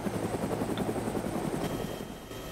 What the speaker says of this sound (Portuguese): Aí eu que deixei os helicópteros ligados.